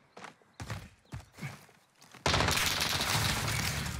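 Gunfire in the video game Call of Duty: Warzone, a few scattered shots and thumps followed by a loud sustained burst of rapid fire, with no voices.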